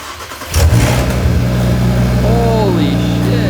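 An Audi RS3 engine fitted with a large aftermarket intake cranks and catches, jumping to a loud, close rumble that settles into a steady idle, with a rising whine briefly audible.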